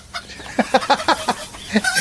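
A voice imitates a chicken, giving a quick run of about eight short, punchy clucks in an uneven rhythm, close and fairly loud, with no other sound around them.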